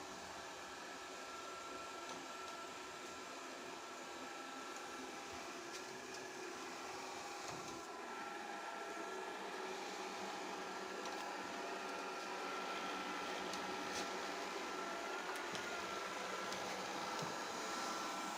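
A Liectroux C30B robot vacuum hums and whirs steadily at moderate volume, a constant motor drone with a faint brushing texture and no voices.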